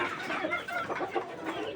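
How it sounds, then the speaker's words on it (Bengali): Desi hens kept in cages on a small farm of about fifty birds give a brief run of soft, repeated clucks, heard faintly at close range. "এই যে এখানে একটা মুরগি আছে"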